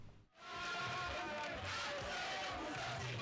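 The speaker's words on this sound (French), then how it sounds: "Une foule enthousiaste, des cris d'encouragement et une chef déterminée." A large, enthusiastic crowd at a gathering in Benin, where a chef is at work, cheers and shouts encouragement in a loud, continuous roar that fills the whole stretch after a brief dip at the start.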